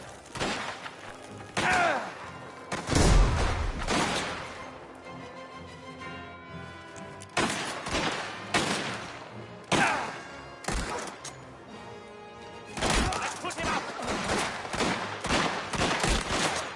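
Rifle gunfire in Mafia: The Old Country rings out in bursts of loud shots with heavy thumps, separated by quieter gaps, no talking.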